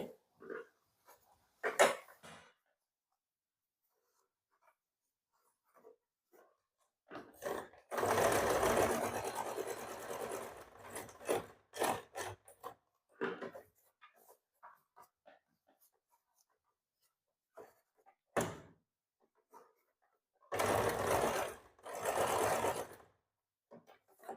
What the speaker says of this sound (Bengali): এবার এটাকে সেলাই করে নেব ঠিক এইভাবে